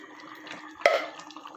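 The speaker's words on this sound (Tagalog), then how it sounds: "Nilagyan ko ng kunting tubig" A small splash of water poured into simmering pork caldereta with tomato, one short burst of liquid landing in the pot amid soft cooking sounds.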